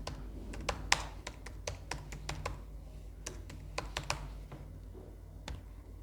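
Someone types a university name on a computer keyboard, with steady, close, irregular key taps and clicks running throughout and no talking.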